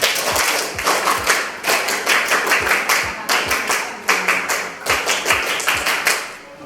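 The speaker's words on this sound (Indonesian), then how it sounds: "sebelum kita mulai, kita 2 kali tepuk pramuka" A classroom group performs the scout clap twice over, loud patterned bursts of hand claps and thumps in a repeating rhythm, each round ending with a strong accent.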